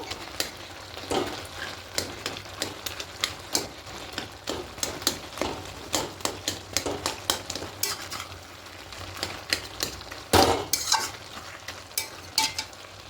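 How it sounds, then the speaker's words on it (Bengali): Vegetarian bottle gourd and spinach ghonto being stirred in a sizzling pan, a spoon scraping and knocking against the metal in repeated uneven strokes over a soft, continuous frying hiss, close and fairly quiet with no voices. "এবার একটু ঘেটে ঘেটে দেব"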